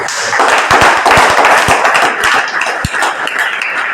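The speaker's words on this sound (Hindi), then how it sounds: "खड़े अपने लिए ताली बजाओ ताकि माइंड और कंसंट्रेट" Students in a class 12 classroom clap for themselves, a loose run of sharp hand claps of uneven rhythm, close and loud, with room noise between.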